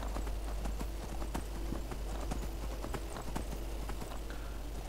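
Horse hooves clip-clop steadily at a walking pace in the video game Skyrim, a continuous rhythmic clatter of repeated close hoofbeats over a low ambient drone, with no one talking.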